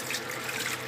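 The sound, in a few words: cold tap water running to cool food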